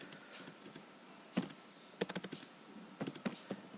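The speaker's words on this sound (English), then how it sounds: "here the secretary is going to type a message" Typing a message on a computer keyboard: bursts of quick, close key taps with short pauses between them, alone without talk.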